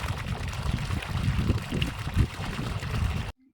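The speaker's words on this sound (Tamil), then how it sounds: "பாருங்கள் தண்ணி நீட்டாக வருது" Water from a solar-powered pump with a 5 HP, 40-stage motor pours and splashes steadily in a dense, rushing stream, fairly close, then cuts off abruptly near the end.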